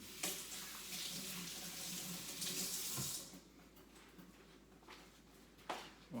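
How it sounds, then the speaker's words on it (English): Tap water runs steadily into a sink as someone washes mango juice off their hands, a loud continuous splash for about three seconds that then drops to softer trickling and dripping, with a brief louder gush near the end. "Wash my hands so then hopefully it's a bit less slippery with all the mango juice."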